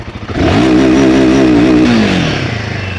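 Royal Enfield Himalayan motorcycle with a short-stroke engine, started and then revved hard close by: a loud rising roar that holds high, then falls back toward idle.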